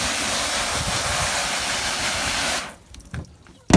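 Water sprays steadily to rinse mildew cleaner off vinyl boat seats, a loud, continuous close hiss lasting about two and a half seconds before cutting off, followed by a few faint knocks.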